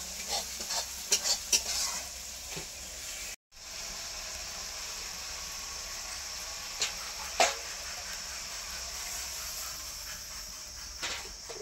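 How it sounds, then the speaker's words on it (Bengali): Spices being stirred and fried in a pan for a home-cooked village meal in India, a steady close sizzle with scraping stirs and clicks of a spoon against the pan, briefly cut off by a short gap. "দেখো, আমি মশলা তো কষিয়ে নিয়েছি ভালো করে"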